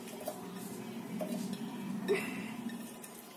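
Wood apple pulp, garlic cloves and green chillies go into a mixer grinder jar for chutney, giving soft clinks and knocks of ingredients and utensils against the jar, close by and fairly quiet.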